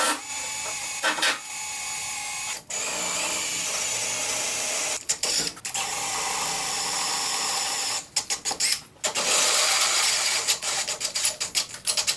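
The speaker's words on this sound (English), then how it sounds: "I'm gonna get to drilling." A power drill whirs in steady sustained runs, with short pauses and clicks between bursts, close and fairly loud, drilling parts on a C6 Corvette drift build.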